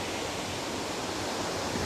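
A small waterfall at Tha Ra Rak waterfall in Mae Sot, Tak, makes a steady, dense rush of falling water that fills the scene evenly and without pause.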